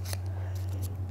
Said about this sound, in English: But I'll keep on cutting until I think this is pretty much the way I want it.